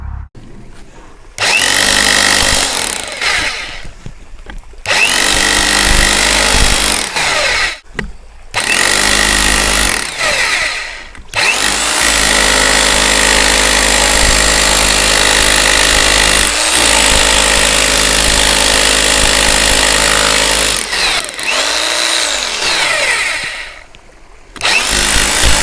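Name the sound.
INGCO 1050 watt rotary hammer in hammer (Hilti) mode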